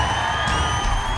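Crowd at an outdoor show jumping event cheering and whooping after a clear round, a steady broad roar of many voices held throughout the brief moment.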